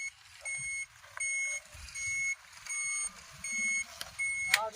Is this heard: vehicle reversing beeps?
yes